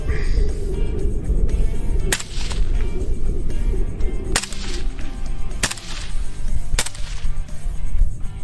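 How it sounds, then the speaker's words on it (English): Four sharp, loud suppressed gunshots crack out at irregular intervals over a steady rumble of low background noise, with no voices. "Doesn't make it silent, but it makes it a lot quieter, and it also completely covers the muzzle flash."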